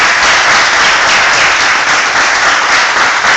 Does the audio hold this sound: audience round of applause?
yes